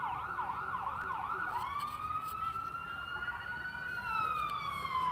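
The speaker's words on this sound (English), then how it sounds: "An ambulance going off over there." An ambulance siren wailing in the distance beyond an outdoor college softball field, its rising and falling tone sweeping repeatedly before settling into a longer held pitch, faint against open-air background noise.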